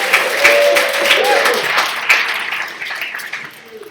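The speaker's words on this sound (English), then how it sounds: "Let's do one more round of applause for the Hong Kong class." Audience applause for the Hong Kong startup class at a live demo day event, a loud burst of clapping from a crowd that fades gradually, with a voice briefly heard over it.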